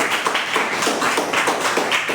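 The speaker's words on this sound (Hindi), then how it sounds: "जोरदार तालियां इन तीनों के लिए" Schoolchildren in a Class 10 Hindi lesson clap together for three classmates, a loud, close burst of applause with a loose, pulsing rhythm.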